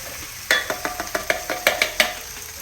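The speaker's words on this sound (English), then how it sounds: "now that this is sizzling" Chopped onions sizzle in a frying pan on the stovetop. A steady hiss sits under a run of sharp clinks and scrapes as a utensil stirs the pan, close by, with no talking.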